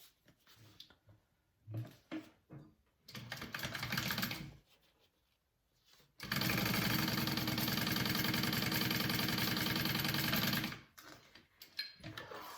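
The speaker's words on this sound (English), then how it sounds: "we are just gonna top stitch this top edge" A sewing machine runs in one steady burst of about four seconds, top stitching the upper edge of a slip pocket for a duffy bag, with shorter bursts and pauses before it and after it, close and fairly loud.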